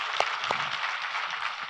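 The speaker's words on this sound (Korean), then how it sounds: "우리 하나님께 감사와 영광의 박수를 드리겠습니다" Church congregation clapping in praise during a Korean worship service, a steady wash of many hands filling the room, with a couple of sharper claps standing out near the start.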